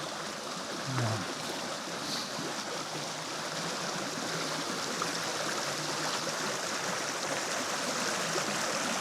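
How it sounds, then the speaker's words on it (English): A woodland creek flowing beside a forest trail, its turbulent water making a steady, dense rushing wash that stays even and close from start to finish. "you get that little bit of action there where you feel the turbulence of the creek"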